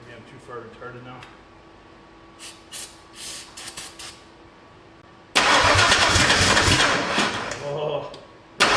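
A Ford F100 with a turbo engine cranks, then catches and fires up loud at close range, roaring unevenly as it runs, with voices talking faintly during the cranking.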